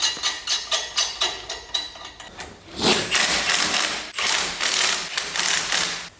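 Wheels are refitted on a Toyota AE86 and the lug nuts run down with a power tool: a string of sharp rhythmic ratcheting clicks, then loud sustained rattling bursts of tightening, all close-up with no speech.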